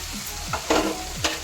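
Chopped onion drops into a hot pan of capsicum and vegetables for restaurant-style chowmein and sizzles softly, with a few quick stirring scrapes and clinks close by.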